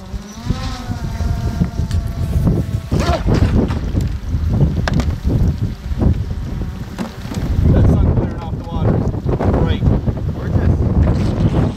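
Small RC boats, an Impulse 31 Deep-V and two Blackjack 29 catamarans on 4s/6s LiPo power, buzz and whine on the water amid gusty wind noise, their engines rising and falling in pitch.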